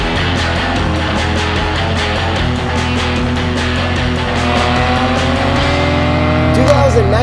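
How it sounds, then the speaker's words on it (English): A 2019 Mercedes-AMG C43 Wagon drives with a continuous, loud engine drone and road noise, a brief tire squeal near the end, heard from inside the car. "Jacob, go for a drive"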